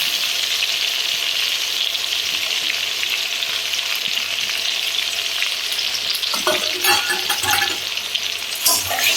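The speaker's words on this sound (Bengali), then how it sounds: "এগুলো একটু আমি কষিয়ে নেব" Garlic and ginger paste sautéing for chicken, a steady loud frying sizzle throughout with stirring clatters toward the end; no voices.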